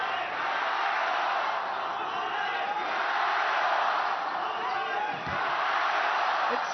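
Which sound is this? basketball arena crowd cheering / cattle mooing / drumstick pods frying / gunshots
basketball arena crowd cheering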